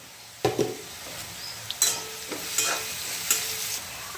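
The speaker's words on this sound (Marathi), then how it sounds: "आता यामध्ये टोमॅटो छानपैकी परतून घ्यायचं आहे आपल्याला" Tomatoes and chili flakes sauté in hot oil in a pan with a steady close sizzle, broken by several scraping stirs and light clinks of the spoon against the pan.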